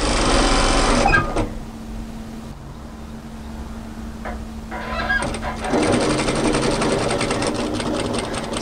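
Sewing machine stitching a seam in a tailored knit military-style jacket, its loud steady whirring running in two bursts with a quieter pause between as the fabric is pivoted.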